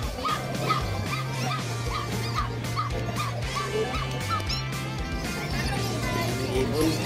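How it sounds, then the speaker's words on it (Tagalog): Dogs at Grotto Pet Market in Bulacan yipping and whimpering in quick repeated bursts over a busy, noisy market background, close and moderately loud. "Yung mga aso rin dito."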